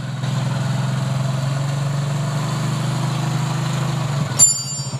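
A Hero Honda CD Deluxe motorcycle, just fitted with an ACG self-starter, idles after an electric start with a steady, even low thrum held close, ending in a short clank.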